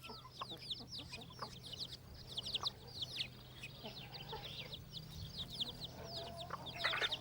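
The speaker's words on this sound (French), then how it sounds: "la poule emmène ses poussins dans la cour de la ferme" A hen and her chicks in a farmyard, the chicks peeping in rapid high chirps throughout while the hen gives low clucks beneath them over a steady background hum.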